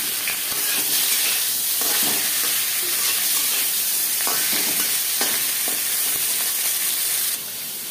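A hilsa fish head fries in mustard oil in a karahi, giving a loud, steady sizzle with occasional stirring scrapes and crackles, with no voices.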